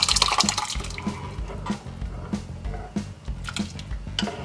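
Sambar with tur dal bubbles in a pot, soft irregular blips and pops of thick liquid breaking the surface, close and fairly quiet with no voices.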